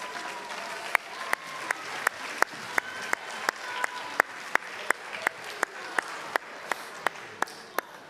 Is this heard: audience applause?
yes